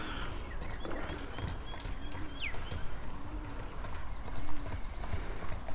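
Horse running on open ground, with rapid clip-clop hoofbeats in a quick steady rhythm, moderately distant and fairly quiet, with occasional faint bird calls and a brief whinny-like sound.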